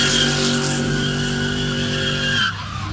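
A Pro-Am race car slides sideways on a track, its tires squealing over a loud, droning engine note. The skid holds for over two seconds, then cuts off abruptly, leaving the quieter engine.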